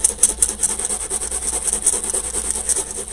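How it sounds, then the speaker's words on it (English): Steady scratchy rubbing as foil is pressed onto adhesive on a coin, a fast, even back-and-forth rasp close up with no talking. "we're just going to place that over and kind of rub it in just so it grabs it"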